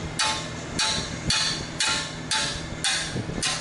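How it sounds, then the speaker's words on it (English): A hammer taps a wrench on a bolt during an SRT4 clutch install, seven sharp metallic strikes at an even rhythm, each about half a second apart, close and clear. "I'm giving it a tap on the wrench"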